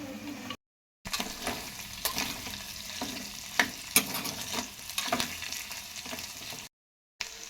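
Yellow chicken cooked without oil with ginger paste, salt and turmeric is stirred in a pot: a steady close sizzle with repeated scraping and clacking strokes of a spoon, briefly cut to silence at the start and end.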